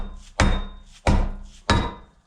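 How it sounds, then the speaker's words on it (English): A hammer strikes three times at an even pace, each blow a solid close metallic thunk with a short ring, knocking a part loose during reassembly of a Jaguar MKII, likely its brake discs. "Then with one's trusty hammer"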